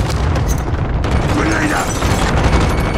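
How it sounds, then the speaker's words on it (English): Cluster strike explosions in the Warzone video game, a steady rumble of overlapping booms and crackling blasts, loud and sustained, with a voice speaking over them. "Cluster strike incoming. Take cover."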